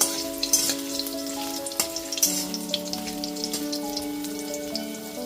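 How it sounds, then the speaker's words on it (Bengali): Potato pieces frying in a pan while being stirred give a steady, moderate sizzle with occasional scrapes, partly covered by sustained background music. "আলুর টুকরোগুলো দিয়ে একটুখানি নাড়াচাড়া করে নিচ্ছি।"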